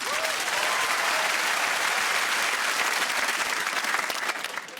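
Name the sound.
studio audience applause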